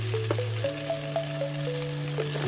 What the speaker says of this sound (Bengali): 2টো কাঁচা লঙ্কা দিলাম, একটা টমেটো দিলাম। দিয়ে সব ভাজছি আমি।